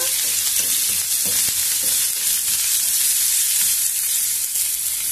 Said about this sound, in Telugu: ఉల్లిపాయ ముక్కల్ని కొంచెం మగ్గనిద్దాం బాగా